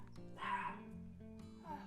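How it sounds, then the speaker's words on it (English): A puppy gives high yips and whimpering barks in a few short bursts over a steady low hum, fairly close and moderately loud. "Puppy."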